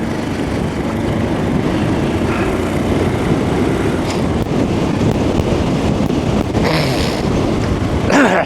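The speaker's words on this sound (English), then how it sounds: "it's really gusting really bad" Strong gusting wind buffets the microphone on a coastal motorcycle ride from Portreath to Redruth, a loud continuous rumbling roar with surging gusts and no speech.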